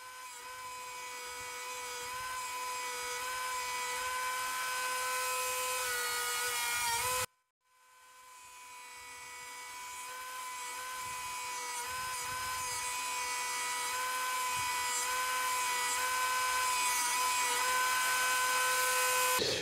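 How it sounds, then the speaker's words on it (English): A high-speed buffing wheel polishes a nylon-string acoustic-electric guitar part with compound, a loud, steady whine with strong harmonic tones that cuts out briefly, then spins back up to full speed and runs on. "So we're just going to use that wheel, buff it at high speed with a compound."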